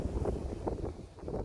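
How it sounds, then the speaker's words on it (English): Gusty wind buffeting a microphone outdoors at a Buc-ee's in Houston, low rumbling bursts rising and falling in quick succession, close and fairly loud, with no voices. "it's super windy"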